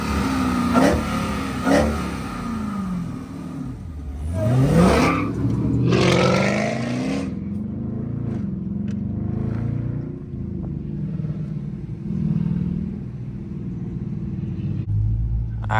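A Dodge Charger R/T engine revs loudly and close by, with rising and falling sweeps over a steady low rumble that runs through the whole stretch.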